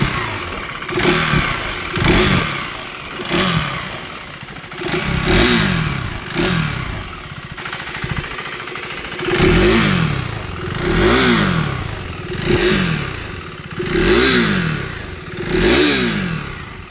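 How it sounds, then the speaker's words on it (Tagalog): KTM Duke 390 motorcycle, now with a 400cc engine, revved repeatedly close up: about ten sharp blips, each rising and falling in pitch, with loud exhaust bursts and a brief idle between them. "ganyan ang exhaust note ng Duke 390"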